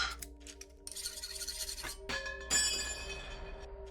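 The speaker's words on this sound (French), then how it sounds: "Il arrive à scier un fusil" A shotgun is sawed off in the video game Buckshot Roulette, a close, gritty rasping in a few short strokes, with louder scraping bursts near the middle and end and quiet gaps between.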